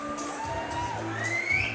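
A boxing crowd cheers and whoops as a boxer makes his ring walk, a lively wash of voices mixed with entrance music, loud and sustained over the short stretch.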